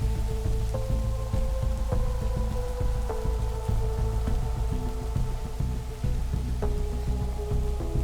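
Steady rainfall in Minecraft patters continuously, with soft repeating ambient tones over it and no voices.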